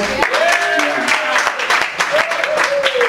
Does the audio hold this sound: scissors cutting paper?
no